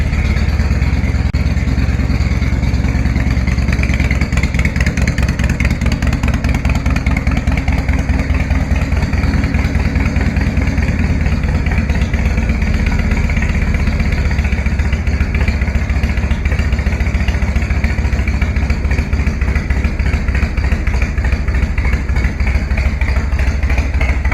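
Cold Harley-Davidson motorcycle engine cranking and starting hard, then settling into a loud, steady, close-up lumpy idle with rhythmic mechanical clatter throughout.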